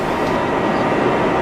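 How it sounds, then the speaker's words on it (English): A 7 local subway train runs toward Kennedy–Main Street with a loud, steady roar of wheels and motors filling the car, continuous and close. "This is a Kennedy Main Street bound 7 local train."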